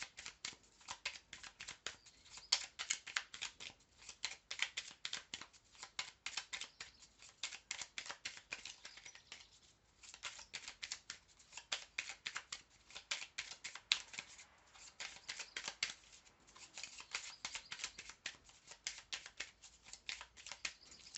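Small oracle cards shuffled repeatedly by hand, soft, quick riffling and flicking in rapid bursts with brief pauses, close and quiet throughout.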